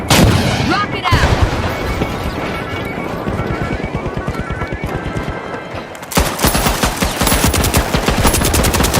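Loud, dense rapid-fire blasts and explosions rattle continuously through a fast-paced match of the shooter The Finals around a rocket launch, with a brief dip before another heavy barrage.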